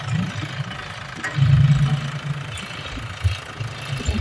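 A single farm tractor idles and runs steadily close by with a low, throbbing engine rumble, rising slightly in the middle and continuing without a break; no one speaks.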